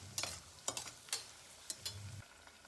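Sliced onions frying in oil in a pan until golden, a soft continuous sizzle broken by several sharp scrapes and stirs of a spatula, close and quiet with no voices.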